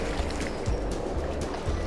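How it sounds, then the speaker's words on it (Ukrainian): A tractor in Farming Simulator 22 sinks into water under a bridge, giving a continuous murky splashing and churning with a low rumbling undertone, moderately loud and steady throughout. "Що, ти трактора втопив?"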